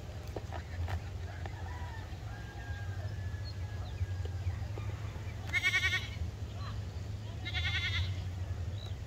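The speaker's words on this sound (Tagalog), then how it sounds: "Yan ang kambing niya." Two loud bleats from a goat in Calaca, Batangas, Philippines stand out over steady low rumble and farm background noise, each lasting about a second.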